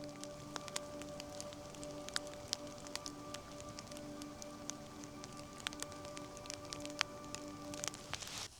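Steady rain falls outdoors near a smoking fire, a soft continuous hiss dotted with sharp drip ticks and patters throughout, fairly faint, with no voices.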